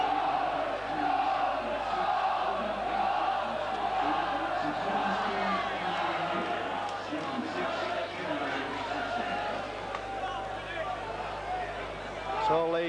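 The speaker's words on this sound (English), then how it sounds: "You'll hear the roar from the Bradford crowd." Bradford Northern rugby league crowd at a 1989 Regal Trophy match against Leeds, a sustained dense roar of many voices filling the ground, loud and continuous with shouting and cheering swelling throughout.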